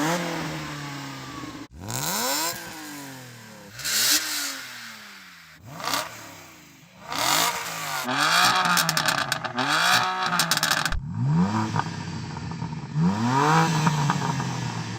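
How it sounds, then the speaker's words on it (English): A BMW M car engine revs repeatedly in sharp, rising and falling bursts, some quick blips and some longer climbs, loud and close with crackling pops between pulls and no voices. "I'm talking about the actual sounds the engines make"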